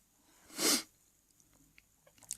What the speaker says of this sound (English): I'm really sorry about the sniffing.